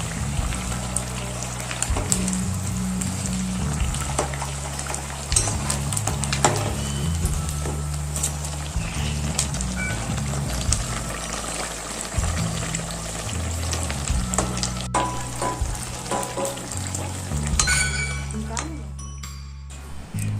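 Chausela, rice flour puris, frying in oil: a constant broad hiss and crackle of deep-frying fills the background while a person talks over it almost continuously.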